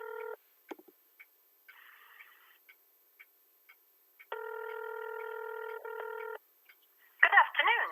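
A telephone call is dialed, with a single dial tone, several short keypad beeps, a long steady multi-tone ringing signal, and a brief noisy burst at the end.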